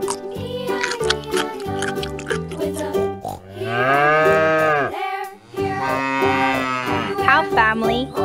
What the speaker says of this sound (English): Cow family. Cow.